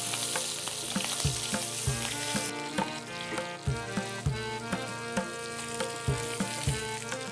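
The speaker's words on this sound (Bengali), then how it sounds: "মাছের মাথাটা ভালো করে ভেজে নিয়েছি" A fish head fries in a pan while Mymensingh-style dal is being cooked, making a continuous sizzle broken by rhythmic clatters, with tonal music playing underneath.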